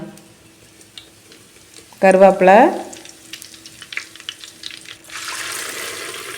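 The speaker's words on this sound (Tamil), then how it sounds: "எண்ணெய் காஞ்சதும் கொஞ்சம் கடுகு போட்டுக்கலாம். கடுகு, கடலைப்பருப்பு போட்டுக்கலாம்." Mustard seeds and chana dal hit hot coconut oil in a clay pot for a goat curry. Quiet crackles come first, then a brief tonal sound, and a broad sizzling hiss rises over the last second or so.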